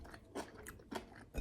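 Crunchy air-fried quinoa being chewed close up, three distinct crisp crunching bites at a steady rhythm, quiet and alone with no talk.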